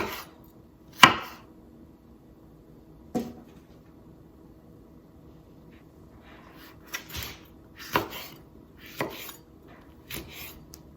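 A knife slices through a pepper on a cutting board in a home kitchen, giving several sharp, separate cuts and taps spread unevenly across the clip, close and fairly clear against a quiet background.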